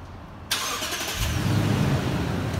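A Lexus LX570 engine starts with a brief starter whir, then catches and settles into a steady, close idle rumble.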